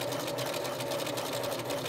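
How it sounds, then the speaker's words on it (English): A sewing machine stitches bodice fabric in a fast, even, continuous whir with a steady rhythmic needle chatter, close and alone for the full span. "Just flip it over because I like to sew from this side."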